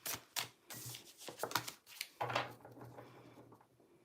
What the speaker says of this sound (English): So let's give those a shuffle.